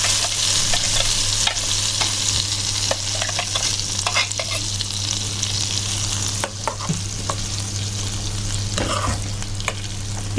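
Peanut paste is stirred into a hot tempering for peanut chutney in a pan with the stove switched off. The oil sizzles softly and steadily while a spoon scrapes and clicks at irregular moments.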